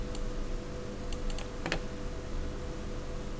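Typing on a computer keyboard while programming a PLC timer: a brief cluster of light key clicks partway through, set against a steady background hum with no speech.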